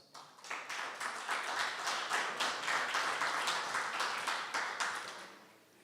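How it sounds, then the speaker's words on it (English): An audience at a policy conference session claps for a panelist being introduced, a soft, steady patter of many hands that swells and then fades, heard from a distance. "Please give me a hand of applause"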